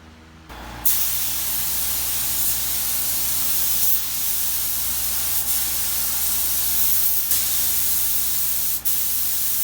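A spray gun fed by a cheap pancake compressor lays a coat over metal flake paint on a custom Harley tank, a loud continuous close hiss that starts abruptly and runs steadily with brief dips.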